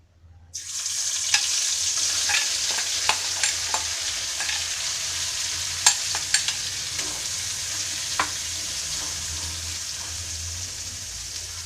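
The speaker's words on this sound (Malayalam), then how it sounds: "നേരത്തെ നമ്മൾ മഞ്ഞൾപ്പൊടി ഉപ്പിട്ട് മിക്സ് ചെയ്ത് വെച്ചിരുന്ന പാവയ്ക്ക ഇതിലൊന്ന് ഫ്രൈ ചെയ്തെടുക്കാം" Bitter gourd pieces, coated with turmeric and salt, fry in sesame oil with a steady loud sizzle, and a spoon scrapes and clinks now and then as they are stirred, with no one speaking.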